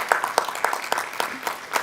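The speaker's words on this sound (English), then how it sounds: "Please, an applause for it." A modest audience at a pain summit opening gives light, scattered applause, individual claps standing out in a loose, uneven rhythm, fairly quiet and short.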